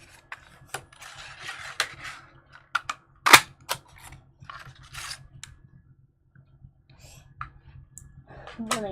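A craft punch cuts a circle out of paper, with a series of crisp mechanical clicks and snaps, one sharply louder, among paper rustling and handling noises.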